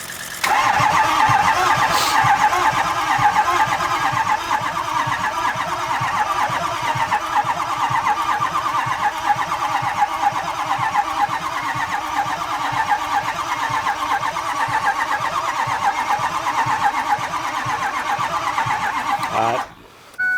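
A Ford 6.0 Powerstroke diesel, freshly swapped, cranks and fires, then runs steadily with a loud, rough mid-range rumble close by for about twenty seconds before cutting out abruptly at the end.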